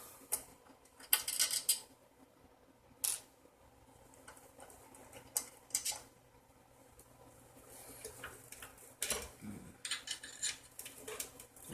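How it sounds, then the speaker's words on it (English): Metal screws are worked loose and dropped from a hardware technician's bench table, giving scattered close clinks, ticks and rattles of small metal parts at an irregular pace over faint room noise. "so take some more screws off"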